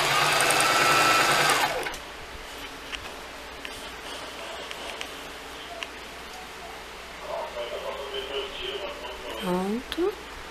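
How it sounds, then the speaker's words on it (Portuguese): A sewing machine stitches a skirt seam in a short, loud, close burst at the start, then a quieter stretch follows with faint rustling and soft handling sounds. "você vai juntar aqui na linha, bonitinho, e vai costurar."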